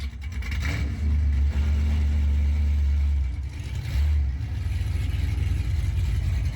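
A classic car engine at a street car show revs loudly in two long deep roaring bursts, then settles into a heavy rumbling idle close by.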